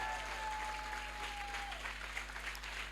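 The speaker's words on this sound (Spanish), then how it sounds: "Dale un fuerte aplauso al Rey de Gloria" Church congregation applauding at a lively evangelical gathering, a steady wash of clapping that holds throughout with a faint whistle-like tone over it.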